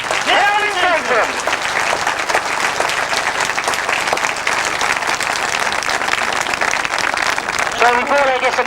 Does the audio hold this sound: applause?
yes